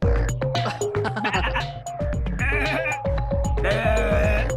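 A goat bleats loudly and close in a repeated, warbling, song-like string of cries that fills the whole stretch with no pauses.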